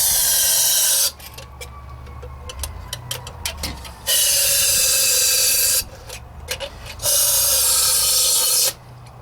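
Three sharp, loud bursts of brake parts cleaner sprayed into a Ford 351 Windsor V8 on a 1960 F100, each a hissing aerosol blast lasting a few seconds, separated by quieter pauses with small clicks and handling noises.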